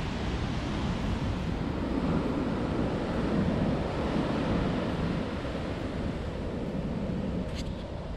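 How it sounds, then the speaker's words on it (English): Large ocean breakers roll and crash steadily on the sand at Dockweiler Beach, a loud continuous surf roar mixed with wind buffeting the microphone. "We've got some huge breakers today down here near Dockweiler Beach."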